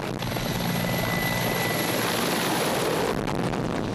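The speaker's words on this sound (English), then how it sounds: "From what we've seen, Mi-24s always take off together." Mi-24 helicopter gunships taking off, a loud continuous rotor and turbine roar with a high whine, steady and close throughout.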